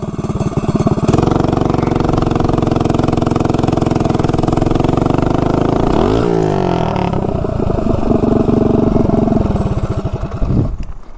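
A minibike with a Tillotson 212 engine fitted with a Honda CRF carburetor riding uphill, a loud, close buzzing engine holding steady revs, then dropping and climbing again before easing off near the end.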